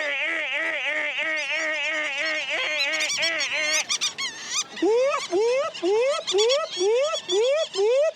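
Geese honking at a colourful marathon event, a run of loud nasal honks in quick repeated bursts, close and clear, with faint voices nearby.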